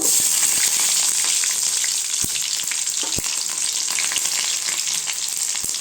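Onions, fennel seeds and dried red chillies fry in hot oil for tiffin sambar: a steady, dense sizzle with a few sharp pops and spatula clicks, close and continuous throughout.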